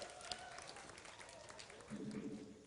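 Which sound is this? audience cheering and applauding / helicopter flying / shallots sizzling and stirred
audience cheering and applauding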